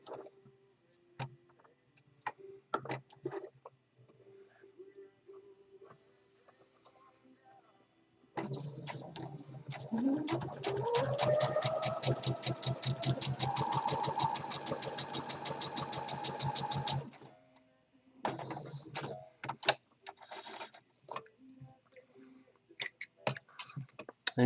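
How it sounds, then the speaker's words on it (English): Sewing machine stitching down a fabric crease for a decorative contrasting seam, a close, steady rapid stitching run of about nine seconds between quieter handling clicks. "Sew down the crease."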